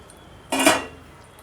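A spoon clinks and scrapes briefly in a bowl while stirring custard powder into cold milk for mango custard pudding, one short burst in an otherwise quiet kitchen.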